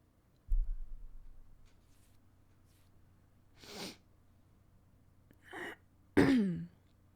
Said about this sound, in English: The cough doesn't hurt or anything.